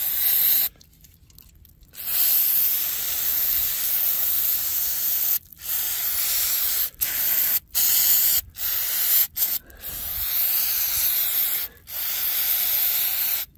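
Brake cleaner sprays onto a mud-clogged carburetor near the fuel inlet in repeated loud hissing bursts: one long spray, then a string of short blasts separated by brief silences.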